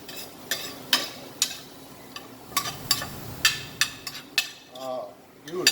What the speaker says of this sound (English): I'm going to put all this into my pan. Give that a lovely stir.